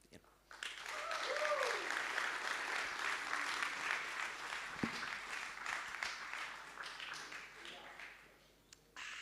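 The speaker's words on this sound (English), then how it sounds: "Another good applause." Audience applause fills a conference main stage at a Bitcoin event, a dense, sustained clapping that swells early and slowly thins out over several seconds, with talk from the stage mixed in.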